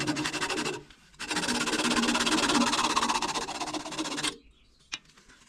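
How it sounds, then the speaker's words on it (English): Hand sanding across the bottom of a red cedar birdhouse gives a steady, close rasping scrape, with a brief pause near the start and a sharp tap as it ends. "So we just sanded the bottom"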